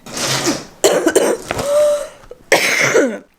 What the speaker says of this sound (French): Bon, je tousse encore, hein